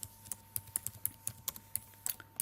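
Typing on a computer keyboard while entering text into an Excel spreadsheet: a steady run of about a dozen crisp, close key clicks in uneven rhythm, with no talking.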